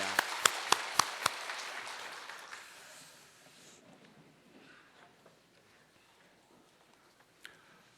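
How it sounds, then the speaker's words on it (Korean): A short burst of applause from a church congregation during a worship service, with a few sharp claps, fading away over a few seconds into quiet room noise. "격려의 박수 하겠습니다"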